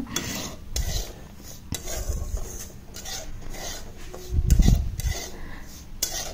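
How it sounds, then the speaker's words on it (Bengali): Semolina dry-roasts in a wok while being stirred, giving repeated scraping and rubbing strokes of a utensil against the metal in an uneven rhythm, with a heavier scrape near the end. "তো দেখো সুজিটাকে আমি ভেজে নিচ্ছি, ভেজে নিয়ে আমি এটাকে নামিয়ে নিচ্ছি।"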